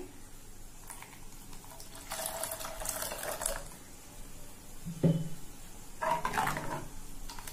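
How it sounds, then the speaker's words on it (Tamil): Water is poured into a pot of okra tamarind curry in a home kitchen, in two short splashing bursts separated by a pause and a soft knock, fairly quiet and close. "இன்னும் கொஞ்சம் தண்ணி விடுறேன்."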